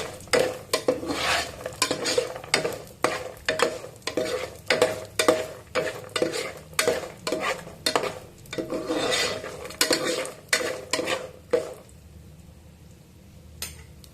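Cashews and peanuts fry in a pan for upma under a gentle sizzle, stirred with a utensil in a brisk, steady rhythm of scraping strokes that stops near the end, leaving only the faint frying hiss.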